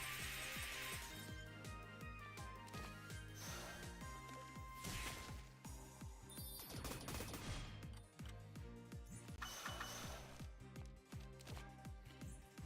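Rapid machine-gun bursts from a bullet-firing attack in the Touhou: Lost Branch of Legend game, dense and loud over busy game music, with crashing hit effects layered throughout.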